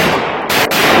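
A rifle fires loud, sharp gunshots at close range, with a couple of hard cracks in quick succession over a dense, ringing wash of noise.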